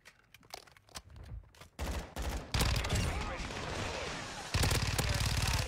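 A shooter video game firefight, with sparse shots at first that build into heavy, sustained automatic gunfire and explosive bursts, loud and continuous toward the end, with voices talking in the mix.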